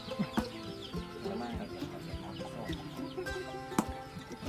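Chickens cluck nearby in short, irregular bursts, several birds overlapping, with a few sharp clattering knocks in between.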